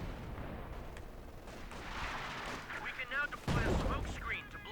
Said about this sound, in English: Artillery coming on in.